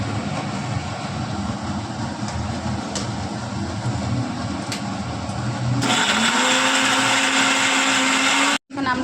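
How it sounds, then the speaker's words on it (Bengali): A blender grinds coconut, ginger, chilli, pointed gourd seeds and poppy seeds with a loud, steady motor roar that rises in pitch partway through, then cuts off abruptly near the end. "এগুলো একসঙ্গে বেটে নেব, বেটে নিচ্ছি"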